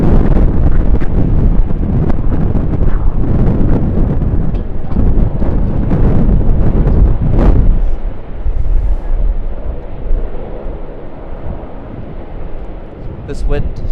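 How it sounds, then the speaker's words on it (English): Strong, sudden gusts at Sydney Airport roar and buffet the microphone in a loud, rumbling rush that drops away abruptly about halfway through, leaving a quieter breezy hiss. "This wind just came out of absolutely nowhere"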